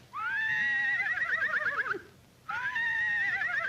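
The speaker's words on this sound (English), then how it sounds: "Sounds like a horse laughing." A horse whinnies twice in quick succession, a loud shaky neigh with a brief pause between, close by and with no talking.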